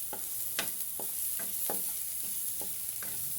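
Garlic and shallot frying in about a tablespoon of oil, giving a faint, soft sizzle broken by light stirring scrapes that repeat roughly every half second, with no voices.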